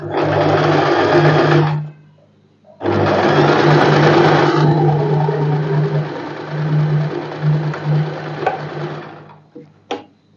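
Close, loud sewing machine stitching a padded princess-cut blouse in steady bursts, one short run, a pause, then a longer run that slows and stutters near the end.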